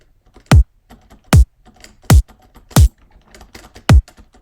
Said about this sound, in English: I have erosion on it to give it some top end because this kick really doesn't have a lot of top end